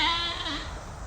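A sheep bleating close by in one wavering, nasal cry that rises and falls over about a second, clear and loud against low background noise.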